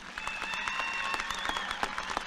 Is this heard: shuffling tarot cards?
no